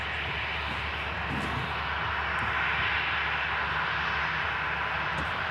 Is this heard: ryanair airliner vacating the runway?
yes